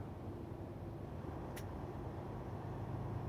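Car with a manual transmission cruising in slowing traffic after a downshift to fifth gear, a steady low engine and road drone inside the cabin with one brief faint high blip.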